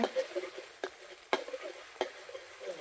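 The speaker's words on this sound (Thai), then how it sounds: "ผัดข้าวใส่ไข่กินแรงของตายาย" Egg fried rice being stirred in a pan, an old-style home recipe, with a few sharp scrapes and knocks of a spatula over a faint steady sizzle, no talking.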